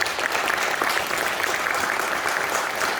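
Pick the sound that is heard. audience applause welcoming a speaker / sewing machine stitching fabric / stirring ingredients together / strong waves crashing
audience applause welcoming a speaker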